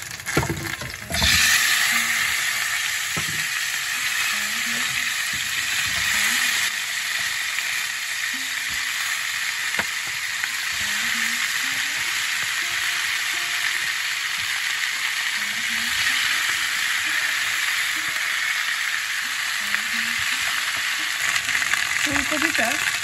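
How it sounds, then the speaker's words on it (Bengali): Cauliflower florets sizzle steadily in hot oil in a pan, a loud continuous frying hiss with occasional stirring clatter and scrapes, holding throughout without speech. "এবার ফুলকপিগুলো আমি ভেজে নেব।"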